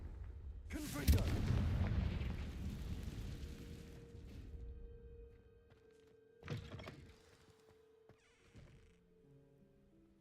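The Confringo blasting spell in Hogwarts Legacy goes off as a loud, booming blast that rumbles and fades over a few seconds, followed later by a second, shorter impact and faint game tones.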